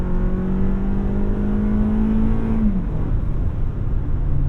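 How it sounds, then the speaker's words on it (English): A 2021 Toyota RAV4 Adventure AWD with a 2.5-liter engine accelerating hard, a steady loud drone with rising engine pitch that drops as the transmission shifts, heard from inside the cabin. "you really got to wind the engine out in order to get the power out of it"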